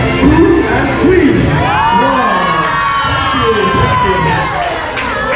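A crowd of children cheers and shouts loudly and continuously at a magic show during a prize distribution at Freemasons Hall, Park Street, Kolkata, with an adult voice briefly audible in the din.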